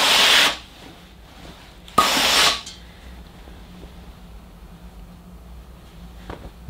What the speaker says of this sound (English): That is still giving out a lot of steam.